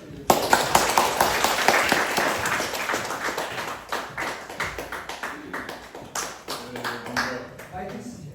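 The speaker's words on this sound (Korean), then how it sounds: "큰 박수 부탁드립니다." A Korean audience at a completion ceremony for horse-history interpreters in Jeju claps in a lively burst that thins into scattered claps, with a voice speaking through the later part.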